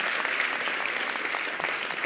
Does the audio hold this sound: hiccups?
no